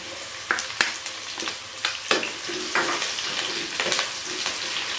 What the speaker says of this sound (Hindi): तो अभी हम इनको 2 से 3 मिनट तक इसी तरह फ्राई करेंगे।